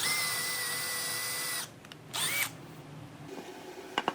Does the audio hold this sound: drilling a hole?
yes